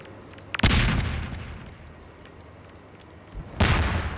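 Two heavy booming blasts from grenades going off in Half-Life 2 Update, spaced about three seconds apart, loud and deep with short rumbling tails over quiet game ambience, with no talking.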